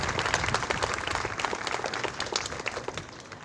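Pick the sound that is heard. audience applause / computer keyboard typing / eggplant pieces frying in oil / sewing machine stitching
audience applause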